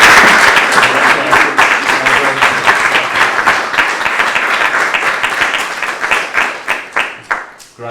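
An office audience applauding at a workplace improvement report-out, close, lively clapping with distinct claps audible throughout that thins out and tapers near the end.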